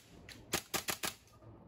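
A WE M4 RIS airsoft gas blowback rifle fires a quick string of four sharp semi-auto shots, each a crisp snapping clack heard up close against a quiet background.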